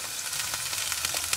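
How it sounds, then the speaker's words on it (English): Wagyu beef patties sizzle in an oiled frying pan inside a van, a steady close crackle and hiss of frying with no voices. "take one of these glorious Wagyu beef patties and get it nice and cooked up"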